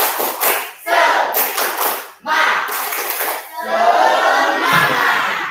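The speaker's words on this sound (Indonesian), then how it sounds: "Tepuk semangat" Primary school class of sixth graders in Tanjung Raya doing a patterned spirit clap together, bursts of group clapping and shouted chants in several rhythmic phrases, loud and close in a classroom.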